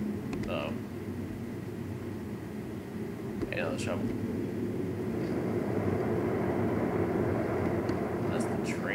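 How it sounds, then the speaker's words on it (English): Train passing in Condemned: Criminal Origins, a dense low rumbling roar that holds steady and builds slightly, with a few brief higher squeals and clanks on top. "That's the train, I guess."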